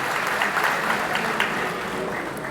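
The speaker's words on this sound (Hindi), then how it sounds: "तालियां एक बार आप लोग बजा दीजिए" A rally audience claps together in one sustained burst of applause, dense and even, with a crowd murmur underneath.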